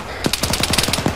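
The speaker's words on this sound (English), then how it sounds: "I say that right as more gunfire erupts." Rapid automatic gunfire from the military shooter game Arma 3, a burst of about ten sharp, evenly spaced shots close by and loud, heard alone.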